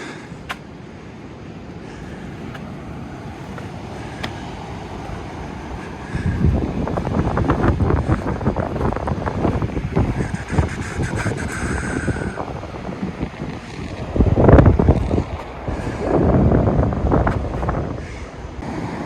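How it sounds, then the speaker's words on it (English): Wind gusts across a beach in North Carolina, buffeting the microphone with a low, rumbling roar that surges in bursts over a steady background of surf. "Wind isn't blowing as much as it was the other day, so you should be able to hear me."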